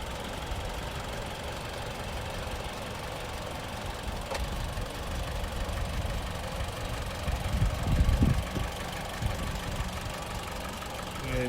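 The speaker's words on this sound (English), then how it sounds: "Nice little Mitsubishi 4-cylinder." A 2012 Mitsubishi Outlander Sport ES with a four-cylinder engine and fresh oil change idles steadily with a low, even rumble, close by, rising briefly in a slightly louder surge partway through.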